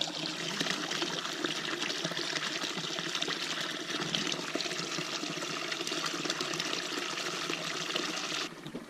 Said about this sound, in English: there's a little stream over here that is fed by the lake